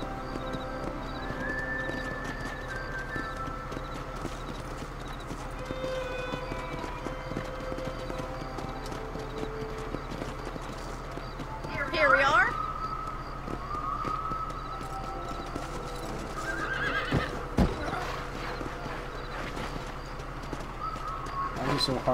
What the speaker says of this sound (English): So hard to hitch a horse.